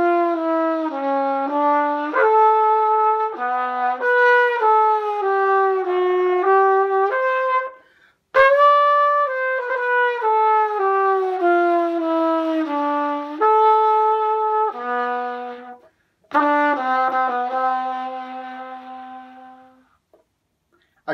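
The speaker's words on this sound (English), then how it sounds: "I play the trumpet, and it sounds a little like this." A solo trumpet plays a melodic phrase of sustained and shifting notes, loud and close, with two short pauses breaking the line before a final held note fades away.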